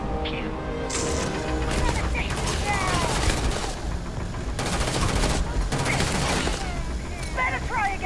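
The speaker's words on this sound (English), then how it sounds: "missiles. Pew, pew, pew." Missiles firing in Starfield, rapid volleys of sharp blasts in repeated bursts with crackling impacts, loud and close, with chirpy electronic game effects between the bursts.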